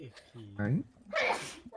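A single sharp sneeze bursts out loud and close after a brief voiced intake, with people talking just before and after it.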